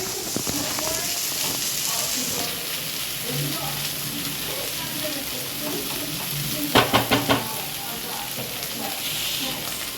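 Spices sizzle in a pan while being fried separately for Bengali-style muttar paneer with peas, a steady crackling hiss throughout with a few brief clatters midway and voices talking over it.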